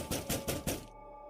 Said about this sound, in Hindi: हाचिशाकु सामा दरवाजा खटखटाती रही।